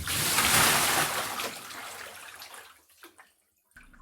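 A loud rushing splash of a body diving into ocean waves, churning water surging at first and then fading into quieter sloshing and trickles.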